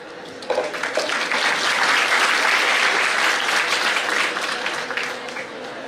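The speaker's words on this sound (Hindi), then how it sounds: "जोरदार तालियां होनी चाहिए" Loud, sustained audience applause at a student merit award ceremony, dense clapping from a large crowd that holds steady for several seconds with no speech over it.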